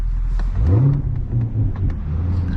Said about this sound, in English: even when I hit the gas there, the supercharger loud isn't really loud, but it's there